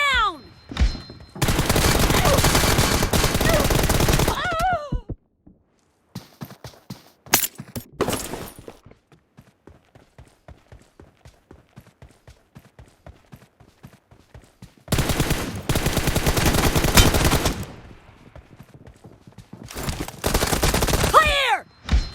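A one-versus-two team deathmatch gunfight in a video game: loud bursts of rapid automatic fire open and close the stretch, separated by a quieter run of steady thuds and footsteps.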